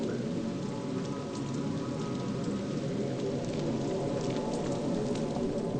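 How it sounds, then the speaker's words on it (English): Steady rain falls in the Project Zero: Maiden of Black Water video game, a dense, loud, continuous patter with scattered sharper drops throughout and no voices. "it's raining all the damn time"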